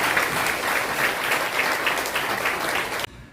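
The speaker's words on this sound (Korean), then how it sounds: "우리 김한성 목사님에게 한 번 더 뜨겁게 박수" A church congregation at a Baptist pastor's ordination service applauds warmly, with sustained, full clapping that cuts off abruptly near the end into a quiet room.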